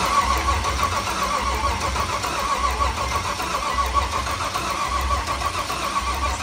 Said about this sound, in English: you're gonna have to press that button to crank the engine